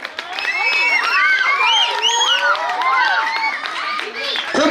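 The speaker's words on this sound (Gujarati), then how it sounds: "આપણે એને જોરદાર તાળીઓથી વધાવીએ" Loud, continuous crowd noise fills a school Republic Day cultural programme, with clapping, cheering and children's shouts and whoops rising together from start to finish.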